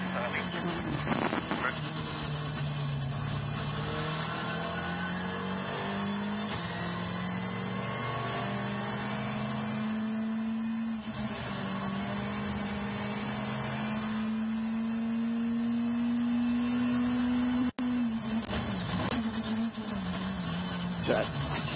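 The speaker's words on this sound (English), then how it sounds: "I just love the aggression of the downshifting and then the upshifting on tarmac, because you can really hear it" A WRC rally car on tarmac at the Croatia Rally shifts through the gears, its engine note climbing and dropping with each upshift and downshift, steady and fairly loud, with a commentator talking over it.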